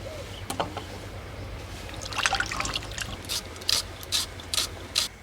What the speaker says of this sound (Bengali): মাংসটা ভালো করে ধুয়ে নিয়েছি